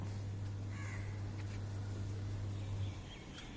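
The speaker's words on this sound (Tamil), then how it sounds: "பறவைகள்" Crows caw faintly at dawn in the distance, a few scattered calls over a steady low hum and soft outdoor ambience.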